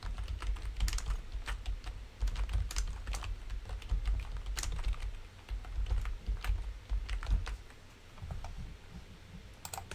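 Steady typing on a computer keyboard as an application name is entered, with a continuous run of close, crisp key clicks and occasional short pauses, heard alone without speech.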